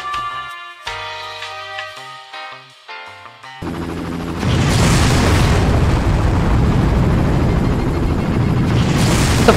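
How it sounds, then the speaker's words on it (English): A heavy explosion booms in the video game Far Cry. It erupts suddenly after a quieter stretch of game music and leaves a loud, sustained roar and rumble to the end. "What the fuck was that explosion?"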